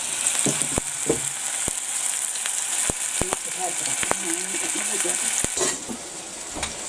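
Turkey patties frying in a pan on low heat, a steady hiss with sharp metallic taps and clinks from a lid and utensils, the sizzle dulling slightly once covered.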